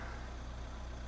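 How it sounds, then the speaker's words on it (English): A car engine idles steadily after being jump-started with a portable power station, a low continuous hum that stays even and unbroken throughout. "I'm going to leave the engine running a little bit to let the battery charge up."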